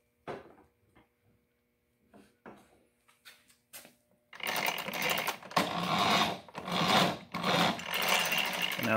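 A Tecumseh lawn mower engine runs with its transmission engaged, bursting into a loud, dense, uneven roar about halfway through after a stretch of quiet clicks and handling noises, close by.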